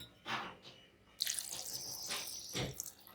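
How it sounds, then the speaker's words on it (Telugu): Water is poured into a pot of chopped vegetables with tomato and green chilli for kootu, giving a few splashing, trickling bursts of moderate loudness close by, with no talk. "వాటర్ పోసి"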